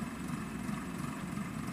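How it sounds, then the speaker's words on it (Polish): A tractor engine drones steadily on a small farm, a continuous low rumble held at moderate distance with no breaks. "Oglądaj traktor."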